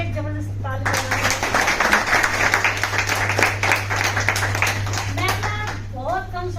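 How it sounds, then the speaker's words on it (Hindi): Audience applause at a planning seminar, a dense burst of many hands clapping steadily for several seconds before fading, with a steady low hum and a voice speaking over the end. "उसके लिए एक जबरदस्त ताली बजाना।"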